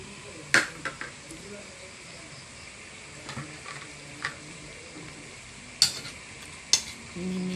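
A spoon scrapes and taps intermittently in a pan of pork adobo with ginger, sharp clinks standing out over a faint steady sizzle, close and fairly quiet.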